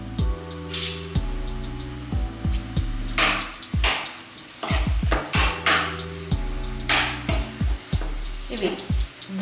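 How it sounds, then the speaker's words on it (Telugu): Thinly sliced onions frying in hot oil in a pan, a steady sizzle under repeated loud scraping and knocking of a spoon stirring against the pan, close and busy with no talking. "ఇవి బ్రౌన్ కలర్లోకి మారేంత వరకు వీటిని వేయించుదాం"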